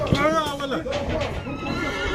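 Mares neigh loudly and up close at a horse market in Shymkent, with one long whinny rising and falling, then further calls mixed with people talking nearby.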